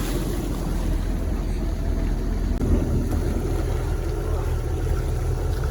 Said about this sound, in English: Motor's actually running really, really good.